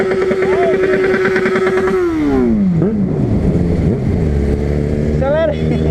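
A tricolour Honda CB300 motorcycle at the seaside revs hard close up, and its loud engine note climbs, drops away and surges again.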